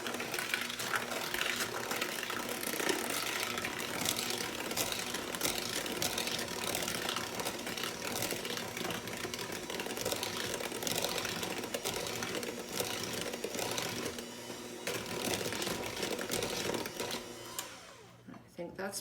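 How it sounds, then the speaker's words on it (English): An electric hand mixer whirs steadily through banana bread batter in a home kitchen, a continuous close motor drone for most of the stretch that drops off near the end. "now we're going to mix this together with our mixer"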